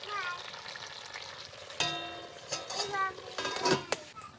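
Country chicken frying in a pan as the lid comes off and the meat is stirred, with a sharp lid clank, then a low steady sizzle broken by scraping stirs and clinks, close by, with a voice faintly under it.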